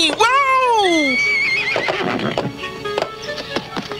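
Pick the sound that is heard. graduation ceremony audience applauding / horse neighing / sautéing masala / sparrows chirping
horse neighing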